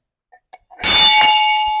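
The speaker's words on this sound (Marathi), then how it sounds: "इकडलेच घंटा आहे" A single temple bell is struck, ringing out with a bright, sustained metallic tone that slowly decays, preceded by a few faint soft knocks.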